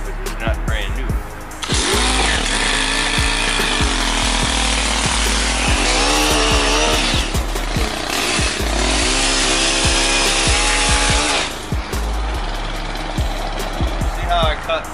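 A used, not-new chainsaw trims river birch branches, its engine revving loudly and steadily for about ten seconds between idling sputters and intermittent knocks before and after.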